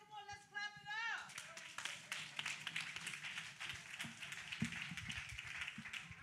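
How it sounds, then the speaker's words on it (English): An audience at a community outreach session claps after a brief opening voice, the applause dense and steady for several seconds with a voice speaking over it. "come on, let's clap it up"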